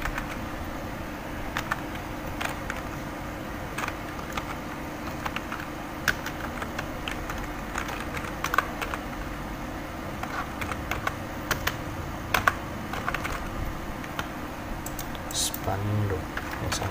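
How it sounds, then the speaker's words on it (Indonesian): Keys on a computer keyboard are tapped in a steady scatter of light clicks under a constant hum, with a person speaking throughout. "Coba saya mengetik,"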